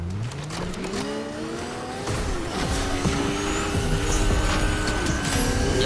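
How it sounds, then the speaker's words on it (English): A motorcycle in a video game revs and accelerates, its engine pitch sweeping up and down in repeated bursts over other game noise, with no talk. "Nah, I'll just take my motorcycle."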